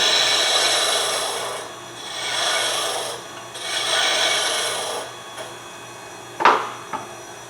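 A spindle gouge cuts a wooden sea life ornament spinning on a lathe, making a steady close scraping rasp that swells and eases in waves, then a couple of sharp knocks near the end.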